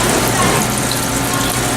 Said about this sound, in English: Make sure that all the oil completely drains out of the machine.